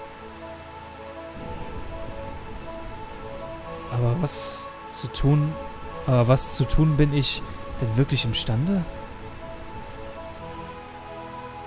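Steady rainfall in Burmecia, the rain-soaked city in the video game Final Fantasy IX, a constant hiss continuing under a voice speaking German.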